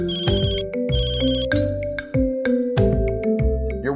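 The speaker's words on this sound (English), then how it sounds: "Every time you leave Cashew Wallet behind, your phone will ring and send you a notification" A smartphone ringtone sounds from a wallet-finder app: a bright, repeating electronic melody of tonal notes in regular phrases, loud and close, with no talk.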